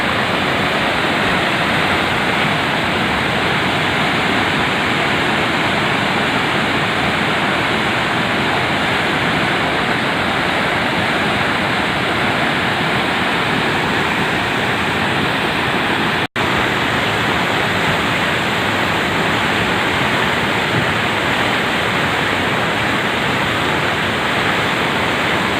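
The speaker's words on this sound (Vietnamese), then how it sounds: "Đây là suối ở Xuân Nha này." A swollen mountain stream at Xuân Nha, Sơn La, rushes in flood after heavy rain, a loud, steady broadband roar of churning water that fills the whole stretch close by, with one abrupt momentary dropout partway through.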